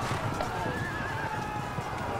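In a Field of Glory 2 battle, horses neigh and whinny amid clip-clopping hooves and the din of combat, while someone talks over the game sounds.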